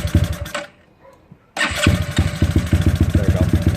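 A GY6 scooter engine cranks with a brief burst, goes quiet for a moment, then fires and runs in a close, loud, rapid chugging rhythm.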